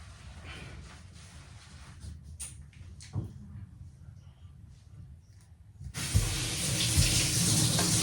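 Water runs from a tap in a steady stream, briefly softening before surging louder with clatter near the end.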